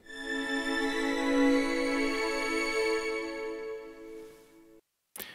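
Chord section of the Audanika music app, a high violin tone over a lower orchestral pad, sustained and fairly soft, fading out before a brief cutoff with no talk.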